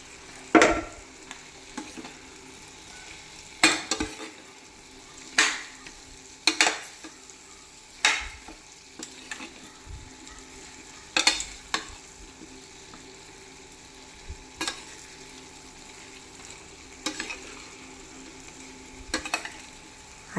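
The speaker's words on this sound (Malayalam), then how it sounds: "ഇനി നമുക്ക് ഫ്രൈ ചെയ്ത മീൻ അതിലേക്കിടാം." Fried fish being added to a simmering pickle masala and stirred, with soft sizzling and bubbling broken by repeated scrapes and clinks of a spoon against the pan.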